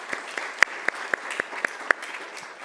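Sparse, scattered claps from a small church congregation at an info meeting, a handful of separate sharp hand claps spread unevenly with quiet gaps between them.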